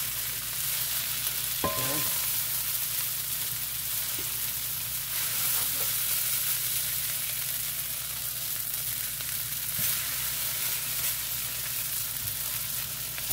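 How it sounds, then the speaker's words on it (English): Cooked rice sizzles steadily in a hot skillet during a chicken and vegetable stir-fry, with a few clinks as it is tossed and a brief spoken word. "I'm going to put that rice right there. And just going to toss it."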